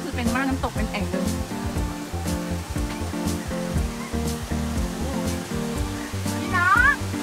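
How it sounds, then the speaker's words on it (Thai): A curtain of waterfall water pours into a rock pool at Tham Phra waterfall, a steady rushing hiss heard close under continuous talking. "ตรงนี้คือเป็นม่านน้ำตกเป็นแอ่งเลย"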